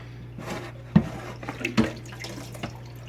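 A Fluval 306 canister filter part is rinsed and dunked in a bucket of aquarium tank water, giving close splashes and sloshing with two sharp watery knocks and trickling drips in between.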